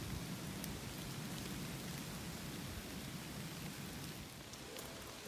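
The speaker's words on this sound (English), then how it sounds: "it's pouring down rain for sure" Heavy rain pours down in windy weather at a lakeside campground in a dense, steady hiss with no let-up, loud and close, with no voices.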